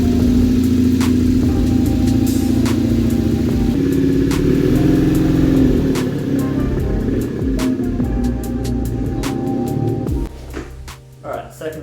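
A refuelled motorcycle engine fires up and idles with a steady, close mid-pitched hum and some revving, then drops off sharply near the end, with a voice talking over it.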